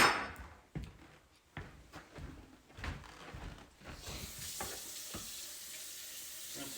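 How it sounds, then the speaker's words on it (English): Tap water runs steadily over a cutting board in a home kitchen, a close, hissing splash with intermittent knocks and clatters as the board is handled, with the rush growing fuller near the end. "Rinse this cutting board off a little bit."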